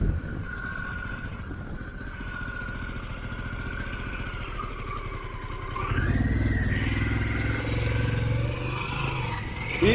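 A Harley-Davidson Pan America motorcycle engine while riding in second gear, a steady mid-level rumble under wind that swells noticeably louder as the throttle rolls on partway through.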